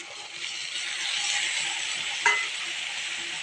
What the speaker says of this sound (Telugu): ఎండుమిర్చి, తర్వాత ఉల్లిపాయ వేగాయండి